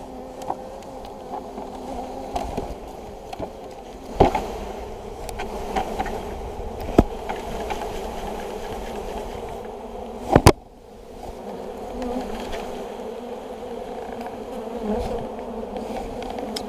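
A steady drone of many honeybees buzzing close by as they are dumped into a new hive box, with a few sharp clicks and knocks breaking through now and then.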